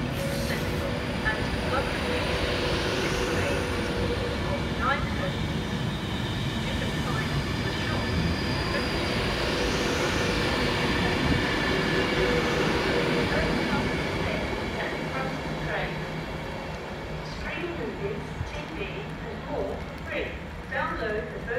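A British Rail Class 391 multiple unit pulls out of Wigan North Western station, a steady rumbling roar with rising electric whine and wheel noise, loud and close, with voices faintly under it.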